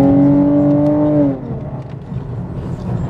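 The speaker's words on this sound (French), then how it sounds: "c'est vraiment impressionnant comme ce petit moteur prend des tours en fait" A small car engine revs hard, a loud steady high-pitched drone for over a second before dropping off abruptly into lower road and engine rumble.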